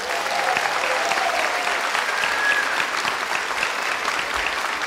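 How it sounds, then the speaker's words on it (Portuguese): Steady audience applause for Bel, a program leader, at a university outreach event, sustained dense clapping throughout with a faint voice briefly over it. "Uma salva de palmas para a Bel."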